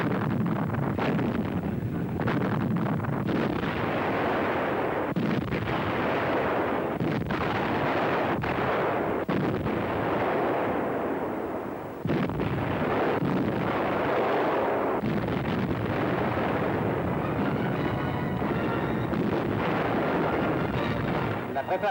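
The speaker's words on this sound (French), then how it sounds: "Intense bombardement du port de Kherson sur l'estuaire du Dniepr." Artillery pounds the port of Kherson on the Dnieper estuary in a wartime bombardment, heard as a dense, continuous roar of blasts and rumbling under wind noise.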